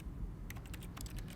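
Rapid clacking of keys on an office computer keyboard in the game The Stanley Parable, a short burst of close, crisp keystrokes after a brief pause, with no voices.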